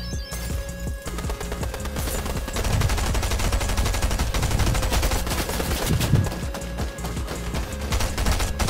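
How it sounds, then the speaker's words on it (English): Sustained gunfire in a shooter video game, dense rapid bursts of shots layered over a constant roar of game ambience, with heavier impacts around the middle, loud and continuous throughout. "Someone getting shot at."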